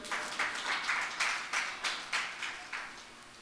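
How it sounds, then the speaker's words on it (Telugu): A congregation at an Easter church service claps in unison, about ten evenly spaced, rhythmic claps of moderate loudness with no talk over them. "చప్పట్లు కొడతారా ఒకసారి?"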